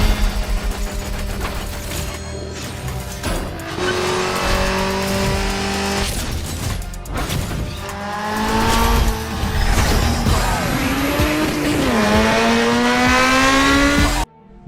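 Cars from the Need for Speed Underground racing game roar through a race with loud, sustained engine revving, rising gear-shift whines and tire squeal, steady and dense from start to finish with no talking.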